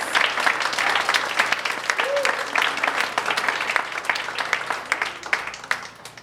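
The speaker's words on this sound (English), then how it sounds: "Can we get a round of applause for our incredible speakers?" Audience applause fills a post-Dobbs community gathering after the speakers finish, a dense, steady clapping that carries on throughout with a few faint voices mixed in.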